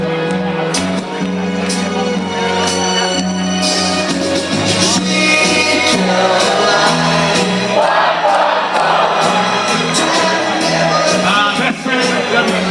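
Baseball crowd at a Victoria HarbourCats game against the Port Angeles Lefties, a loud sustained roar of cheering and whooping from the stands with music and a PA voice layered over it.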